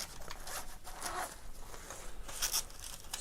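A zipper is drawn open on the bag of a Lulzbot 3D printer toolkit, several short quiet rasping pulls close by with no talking.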